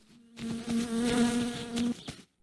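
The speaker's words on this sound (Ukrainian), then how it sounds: "А це що за звуки такі? Комарі?" Mosquitoes buzz in the My Summer Car video game, a close, steady whining drone that swells for about a second and a half and then cuts off, with no speech.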